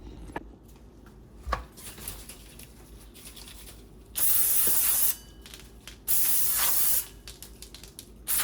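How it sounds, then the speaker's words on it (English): Two long, loud bursts of aerosol brake cleaner sprayed onto the surface of a Goodwin Racing Super Q exhaust, each hissing steadily for about a second, with quiet handling noises between. "I'm going to clean and prep the surface with this brake cleaner and a microfiber cloth"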